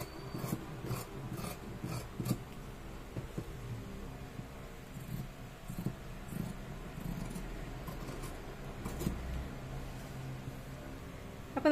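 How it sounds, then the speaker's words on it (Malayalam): Scissors cut fabric for the yoke of a frilled nighty at close range, a run of quiet rasping snips and rubbing of cloth against a table, with no voices. "ഇനി നമുക്ക് ഇത് കട്ട് ചെയ്തെടുക്കാം."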